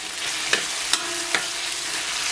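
Pixian doubanjiang chili bean paste stir-fried with scallion and ginger in a wok, a constant bright sizzle broken by three quick, evenly spaced spatula scrapes.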